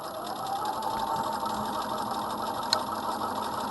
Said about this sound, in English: Try and avoid sewing over pins.